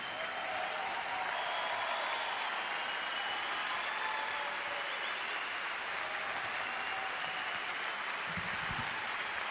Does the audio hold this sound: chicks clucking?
no